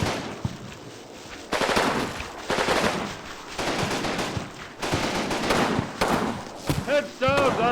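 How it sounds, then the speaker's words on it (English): Repeated bursts of gunfire from a Combat Mission Fortress Italy battle, fought at a gate on the main road in a factory setting. Loud volleys of rapid shots come in waves, with soldiers' voices shouting near the end. "We're taking a lot of fire at the gate at the main road location"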